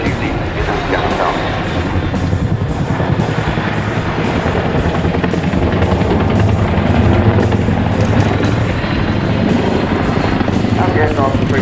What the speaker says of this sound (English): Today's Chinook Mark II is displayed by Flight Farmer, co-pilot Justin Shaw, and crew sergeant Dan Temple